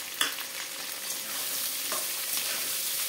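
Sliced onions sizzle in hot oil in a pan as a Bengali home cook stirs them, with a bright steady crackling hiss and a few scraping clacks of the spatula.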